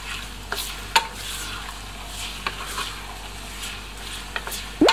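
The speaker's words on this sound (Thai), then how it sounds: "ทีนี้เราก็ผัดไปเรื่อยๆนะครับผัดให้น้ำมันใสแล้วก็หมูเปลี่ยนสีเป็นแบบสุก" Pork belly stir-frying in hot oil with fish sauce, a steady close sizzle broken by scattered sharp clicks and scrapes of a spatula against the pan, with no voices over it.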